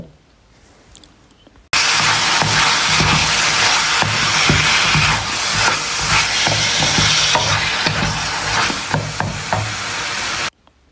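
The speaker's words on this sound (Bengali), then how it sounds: "তো সেটাকেও সুন্দর করে নেড়ে চেড়ে ভেজে নেব।" Keema with diced potato frying in a pan, a loud close sizzle that starts abruptly and runs steadily with repeated spatula scrapes and knocks as it is stirred, no talk.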